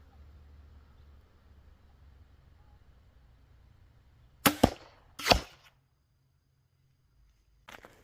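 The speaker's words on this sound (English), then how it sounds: "Time to test out the striker crossbow again." A Striker crossbow fires a bolt at a ballistic head, two sharp snapping shots with a crack of impact close together after a quiet stretch, and another faint snap near the end.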